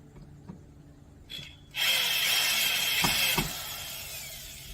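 A DeWalt power drill driving a screw into steps: quiet handling clicks, then a steady whining run of about a second and a half that tapers off, close and alone.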